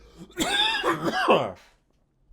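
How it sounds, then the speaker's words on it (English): A harsh, raspy coughing fit up close, several rough bursts running together before it drops into silence. "while I cough my lungs out"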